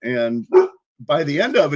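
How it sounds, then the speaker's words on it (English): A dog barks a few times in quick bursts close by, mixed in with a person talking over it. "You can hear the dog going off there real quick"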